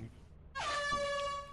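An air horn blares in Lethal Company, one sustained loud blast after a brief quiet, sounding alone without talk over it.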